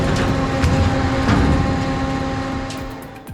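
A dual shear M180 industrial shredder chewing through monster tires, a loud continuous low grinding rumble with steady mechanical hum and occasional crunches, fading slightly toward the end.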